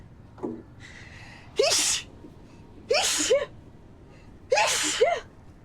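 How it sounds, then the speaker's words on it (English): Three loud, close sneezes at even intervals, each a sharp burst preceded by a short inhaled gasp, with no talk in between. "this is like a really bad time to sneeze"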